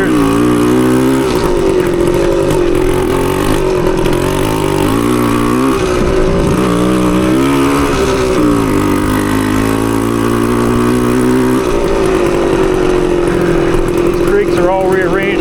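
A 1980 Suzuki TS185 two-stroke motorcycle engine drones loud and close on a wooded singletrack trail ride, revving up and down through the gears with continuous harmonic buzz, a voice talking over it.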